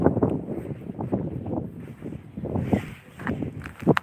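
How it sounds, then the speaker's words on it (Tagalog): Gusty wind blowing outdoors on a cold, flat, icy stretch in Russia, rumbling against the microphone in uneven low buffets, with some muffled footsteps or movement mixed in. "Tapos mahangin siya, guys."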